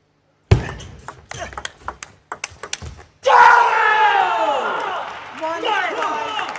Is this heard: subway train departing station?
no